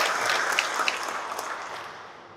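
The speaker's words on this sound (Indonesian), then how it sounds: "Tepuk tangan yang kencang kali." Audience at an academic oration by Indonesia's Minister of Religious Affairs gives a short round of applause, brisk clapping that tapers off within a couple of seconds.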